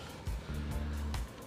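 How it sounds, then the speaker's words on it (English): A car approaching from behind on the road, a brief low engine rumble swelling and holding for about a second before easing off, fairly close and with no talk over it. "I hear a car behind me."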